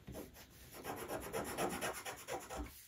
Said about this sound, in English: just making sure I burnish those edges down.